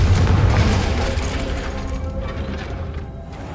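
Confringo fire spell cast in the Hogwarts Legacy video game, a loud booming blast that opens at full strength and rolls off into a long rumbling decay.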